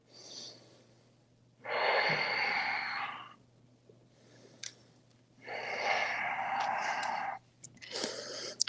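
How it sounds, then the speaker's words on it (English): Two long, deep breaths during a yoga stretch, each a slow, airy rush of exhaled air lasting a couple of seconds, close and clear, separated by quiet pauses with a faint steady hum. "Let's take 5 deep breaths here"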